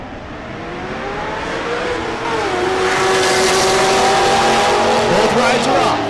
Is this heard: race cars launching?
yes